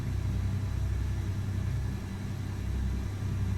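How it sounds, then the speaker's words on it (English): Low, steady truck engine rumble from an FL FLD rig in American Truck Simulator, a dense continuous drone heavy in the bass, fairly quiet, with no voices. "This engine definitely sounds better, but it's still very quiet."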